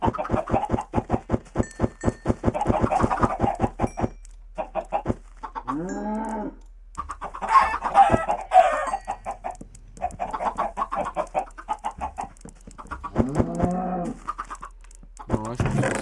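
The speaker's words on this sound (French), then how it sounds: "Les poulets, est-ce que vous avez besoin de graines?" Chickens in a video game cluck in quick repeated bursts, with rising squawks and a lowing cow mixed in, loud and close, with no talking.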